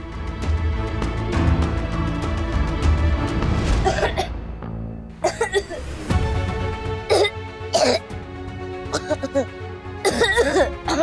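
A child coughs in several sharp, separate bursts indoors, each harsh and close. They break through an ongoing background of talking and other noise at home.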